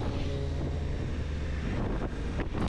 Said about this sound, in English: With a short screen and upright stance, you do get a fair amount of wind noise